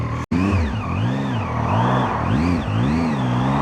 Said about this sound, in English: Quite a high revving bike, because I'm in 6th gear at the moment